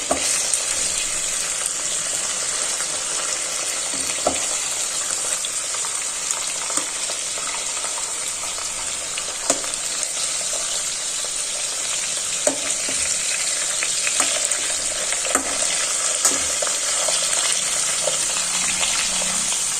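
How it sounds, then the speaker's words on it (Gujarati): Pieces of raw mango and tomato turned over and frying in a pan for a sweet-sour chutney: a continuous loud sizzle with small scrapes and taps from the spatula throughout, no talking. "હવે આપણે આ કેરી અને ટમેટાની સાઈડ ચેન્જ કરી દેશું આવી રીતે"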